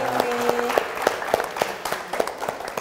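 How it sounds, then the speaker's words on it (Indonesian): Audience at a service-counter launch event in Yogyakarta claps in a loose, uneven rhythm, with distinct individual claps standing out over a brief tonal sound early on. "Dan kita minta tepuk tangan untuk panjenengan semua yang hari ini sudah rawuh di sini"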